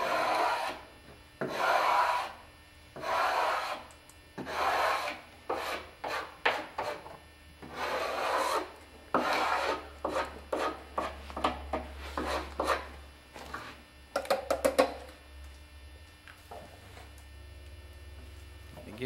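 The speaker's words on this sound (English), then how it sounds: "I'm just scraping right down." A scraper drags across wood stripped with Star 10 paint stripper, making long rasping strokes that shorten into quick, rapid scrapes, close and clear over a low steady electrical hum.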